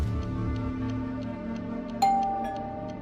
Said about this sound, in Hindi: अरे यार फ्रांसिस, कोई किलर तुझे मारने के लिए तेरी डोरबेल बजाएगा?